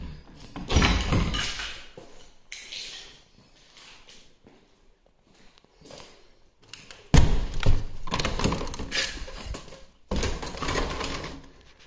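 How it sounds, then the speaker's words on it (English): A heavy door in an abandoned bakery is pushed open in several bursts, with loud thuds, scraping and rattling separated by quiet pauses, heard close by with no talking. "heavy door"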